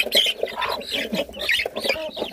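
Village hens, with one rooster among them, cluck busily in a steady chatter of overlapping calls, fairly close and with no talking.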